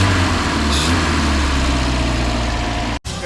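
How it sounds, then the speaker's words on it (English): A 1965 Volvo PV544 Sport engine idles steadily on fresh engine and transmission mounts, a smooth continuous low rumble heard close with no talk, cutting out briefly near the end. "this is how smooth my engine is now working with new transmission mounts and new engine mounts"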